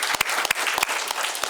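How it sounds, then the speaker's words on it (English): A crowd claps steadily, a dense patter of applause with a few louder individual claps standing out. "Let's give him a round of applause."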